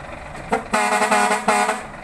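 A loud vehicle horn, before its diaphragm film is replaced, blares in short blasts, two quick honks then a longer sustained tone.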